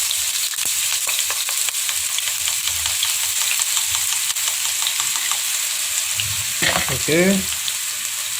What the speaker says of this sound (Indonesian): Di sini saya panaskan minyak sayur, lalu kita masukkan bumbu yang sudah kita cincang